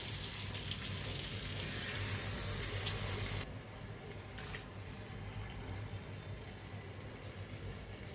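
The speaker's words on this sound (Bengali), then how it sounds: "আমি একটু পানি দিয়ে দেব।" Water poured from a tap or jug into a pan of simmering fish curry made with small pond fish, a steady splashing rush for about three seconds, then a quieter sizzle and bubbling.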